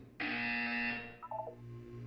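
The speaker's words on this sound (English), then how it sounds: "When you hear the buzzer, look up at the ceiling." A harsh, sustained electronic buzzer from Portal's Aperture Science facility sounds loudly for about a second, then fades into a few short electronic blips over a low background hum, with no talking.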